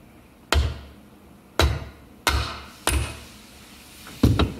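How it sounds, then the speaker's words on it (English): A leather hammer strikes a Bridgeport R8 milling spindle while a bearing is tapped into place: five sharp, close knocks spaced roughly a second apart, each ringing briefly before fading. "I'm going to get my leather hammer."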